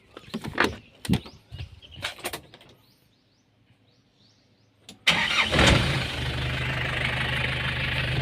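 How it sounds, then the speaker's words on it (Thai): A 1996 Nissan Big M pickup's engine starts with a sudden loud burst after several knocks and bumps and a quiet pause, then settles into a steady, close idle. "มาฟังเสียงเครื่องครับ"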